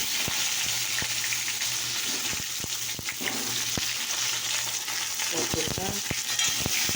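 Pointed gourd pieces stirred and fried in hot oil, a steady close sizzle with repeated sharp scraping clicks of the spatula throughout.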